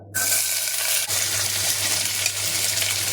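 Onions hit hot oil for ridge gourd bajji and burst into a loud, dense, steady sizzle that starts abruptly and holds close up, with no talking.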